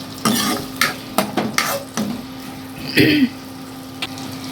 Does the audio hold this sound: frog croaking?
no